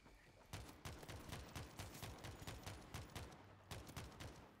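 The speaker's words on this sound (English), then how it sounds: "Gunshots." Gunfire in the co-op zombie shooter World War Z, a rapid string of sharp shots in bursts with a brief pause near the end, fairly faint and with no talk over it.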